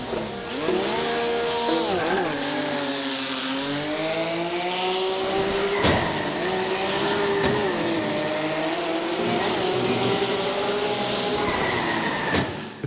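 A Porsche Cup race car laps Tsukuba in the iRacing Arcade video game, its engine note droning loudly and continuously, sweeping up and down through gear changes, with occasional tire squeal.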